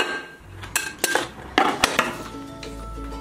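A plate set down over a Christmas strawberry gelatin mold being unmolded, with several close clinks and knocks of dishware in quick succession, crisp and moderately loud, with no talk.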